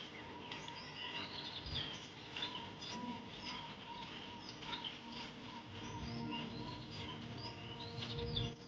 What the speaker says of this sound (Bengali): এক তিন রকমের পাখির আওয়াজ শোনা যাচ্ছে